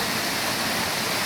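A spring waterfall roars as a loud, dense, continuous wash of falling water, close and steady, with nothing else standing out above it.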